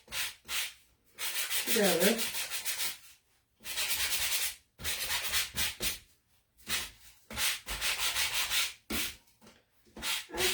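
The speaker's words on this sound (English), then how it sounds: "I'm going to take my sanding block" A sanding block rubs back and forth over paint on a wooden cutting board in repeated scratchy strokes, close and fairly loud, broken by short pauses between bursts.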